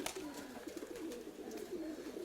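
A pigeon coos softly nearby in a short series of low, rounded calls over faint background hiss.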